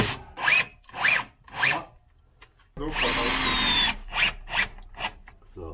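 A power drill drives screws into wooden attic stairs in an old building, several short whirring bursts followed by one longer sustained run and a few final pulses, close and fairly loud.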